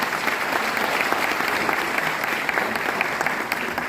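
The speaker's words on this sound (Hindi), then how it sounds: "एक बार आप सभी लोगों के लिए, इस जज्बे के लिए जोरदार तालियां हो जाए।" An audience in a hall applauds loudly and steadily. The dense clapping carries on without a break and no voices are heard over it.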